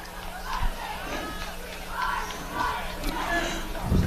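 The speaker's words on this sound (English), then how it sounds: "Medway cheerleaders trying to get their team crowd going" A crowd at a Dover-Sherborn vs. Medway high school football game cheers and chants in rising, rhythmic calls as Medway cheerleaders rally the fans, steady and moderately distant with voices overlapping.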